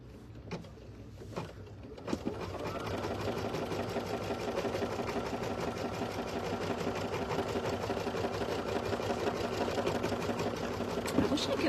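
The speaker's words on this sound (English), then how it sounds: "We're going to tack down that first applique piece." An embroidery machine stitches to tack down an applique piece, setting up a fast, steady mechanical chatter after a couple of soft handling knocks and running close and continuous to the end.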